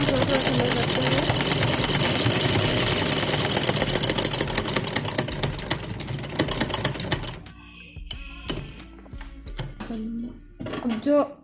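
Straight stitching on a dupatta with a sewing machine, a dense steady mechanical whir for about seven seconds, then sparse clicks and handling sounds as it stops.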